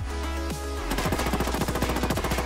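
Rapid automatic fire from a P90 submachine gun in Ghost Recon Wildlands, a dense run of evenly spaced, punchy shots starting after a short lead-in hum, loud and close with no talk.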